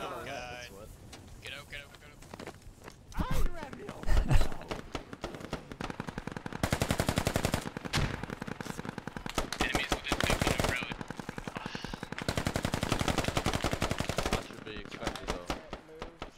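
Rapid bursts of automatic gunfire from a first-person shooter match, some bursts near and loud, others sustained fusillades, with players talking over the shooting.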